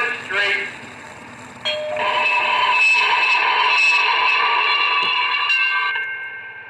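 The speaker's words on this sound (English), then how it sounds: "and then if you press and hold the bell button" An MTH PS1 model trolley's bell rings continuously while its button is held, a steady metallic ringing that starts after a brief tap and holds for several seconds, with a voice talking faintly at the start.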